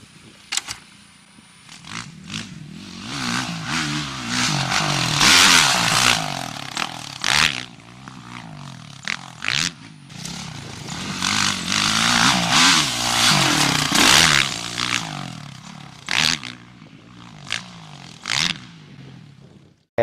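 A motocross dirt bike rides over a rhythm section of jumps, its engine revving and dropping in repeated bursts as the throttle opens and closes, with clattering and scraping from the track.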